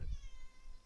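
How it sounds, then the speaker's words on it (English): A cat in the Red Faction Guerrilla Remarstered game gives a short, low meow, close and fairly quiet, fading into a soft background hum with no talking. "Listen, cat."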